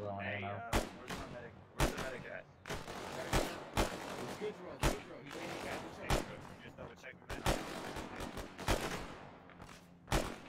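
Gunfire in the video game Arma 3 during a squad battle, with repeated sharp shots at irregular intervals, some close and loud, others slightly softer, over a steady background of game ambience.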